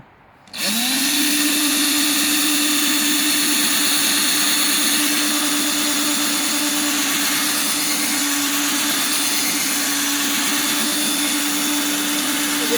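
A power drill bores drainage holes in the base of a small ceramic cup-sized pot, whining steadily at a loud, close, unbroken level after a brief quiet start.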